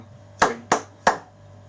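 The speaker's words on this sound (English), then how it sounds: "Have a go at clapping this one by yourself first and see if you can do it." Three sharp hand claps land in an uneven rhythm, the second and third spaced closer, each crisp and fairly close with a quick decay over a faint steady hum, no voices.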